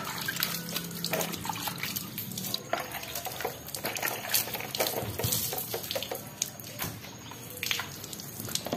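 Water from a hose or tap splashes and runs over a Suzuki Satria FU motorcycle after a front brake caliper and master cylinder have been fitted, a steady close rinsing patter throughout.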